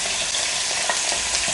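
Sausage frying in a pan, a loud, dense sizzle close up, steady and unbroken for a brief moment.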